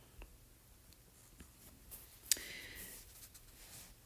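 Pencil writing out a math answer by hand on paper, soft intermittent scratching strokes with one brief sharper scrape partway through, close but quiet, no talking.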